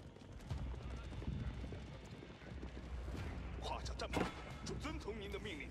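Horsemen riding in a Mongol-themed strategy video game, hooves clip-clopping in a steady busy patter, with battle noise and a sharp burst near the end, under continuous talk.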